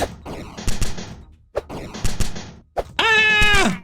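Two bursts of rapid gunfire from the video game Bacon May Die, with a short pause between them, then a sustained tonal whine. Game sound effects layered with impacts.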